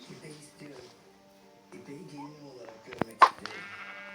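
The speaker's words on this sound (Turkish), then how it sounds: "Şuradan da koyun gördüm." A sheep in a video game lets out one sharp, loud bleat near the end, heard over steady game music and someone talking.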